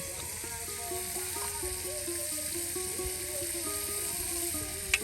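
Cumin and ginger paste sizzles quietly in hot oil for a village-style chicken curry, a soft continuous frying hiss with a faint background melody and a single sharp clink near the end.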